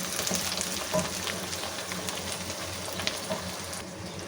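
Steady sizzling of garlic ginger paste frying in a hot pan, a continuous crackle with occasional small pops, fairly close and without any talking.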